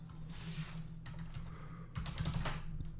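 Keys clatter on a computer keyboard in quick bursts of typing, with a short pause between two runs of close, crisp keystrokes over a quiet room hum.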